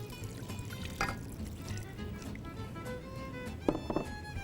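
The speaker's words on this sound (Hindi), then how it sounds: "और अब मैं इसमें डालूँगी चनों का पानी, चने जिसमें हमने बॉयल किए थे जिस पानी में" Leftover water from boiling chickpeas pours into a pot of desi chicken cholay, a soft continuous splashing pour with a few louder sloshes near the end, no talking.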